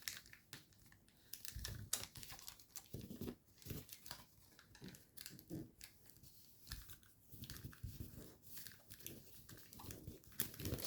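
Paper is folded into an origami jet, giving soft, close crinkling and creasing sounds with light taps and rustles in irregular bursts, quiet and with no talking.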